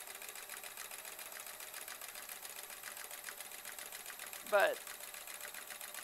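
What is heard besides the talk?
sewing machine stitching embroidery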